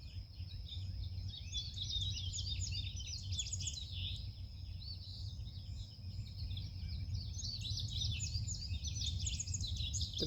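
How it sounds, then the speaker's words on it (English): Many birds sing and chirp continuously in a busy chorus, with a steady low background rumble underneath. "The birds, their songs are so beautiful."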